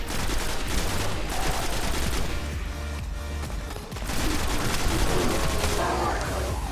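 Dense, loud video game gunfire from a scout rifle, shots overlapping in a continuous barrage of booms and cracks with a short dip midway, other game sounds mixed in.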